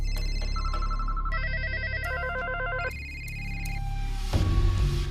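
Several telephones ringing in overlapping electronic tones, repeated beeping patterns stacking and shifting, fairly quiet and close, with a louder muffled noise near the end.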